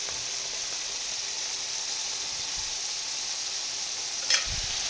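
Unseasoned chicken breast sears in a hot pan with a steady, even sizzle, close and continuous, and one brief scrape near the end.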